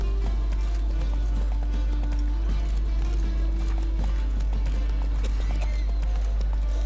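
A horse gallops in the video game The Witcher 3, its hooves beating a steady, loud clip-clop throughout, with a brief spoken line over it.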